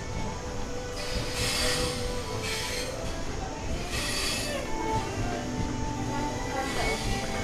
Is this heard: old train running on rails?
yes